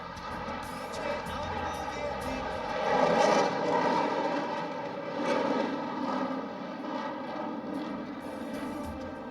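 A HAL Tejas fighter jet powered by a GE404 engine takes off, its engine roaring in a steady broad rumble that swells and fades over several seconds while someone narrates.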